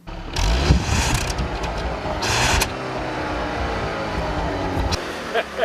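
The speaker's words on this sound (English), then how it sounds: "You know, Nathan, I hear more coming from under the hood than I do from the tailpipe." A Volkswagen CC with a manual six-speed gearbox idles and runs steadily under the hood, a continuous close engine hum with a louder surge early on and a brief rise midway.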